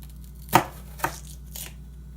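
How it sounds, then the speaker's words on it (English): A kitchen knife chops through peppers on a cutting board in three crisp strikes, two distinct close knocks followed by a softer third, with no talking. "I'm gonna be chopping the peppers"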